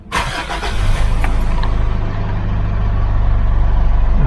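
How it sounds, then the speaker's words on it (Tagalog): A car engine cranks and catches right away, then settles into a smooth, steady idle near 700 to 800 rpm, loud and close to the microphone. "Okay guys, so ating start yung ating makina, no?"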